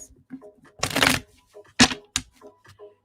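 Tarot cards are shuffled by hand in a few quick riffling bursts, close and crisp, with small taps and rustles in the pauses between them.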